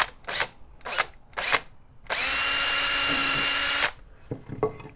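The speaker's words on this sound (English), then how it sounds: "Just have to keep my drill straight" Power drill boring through a leather couch armrest during a repair: a steady high-pitched whine of just under two seconds, set between several short bursts of handling and tool noise before it and quieter clatter after.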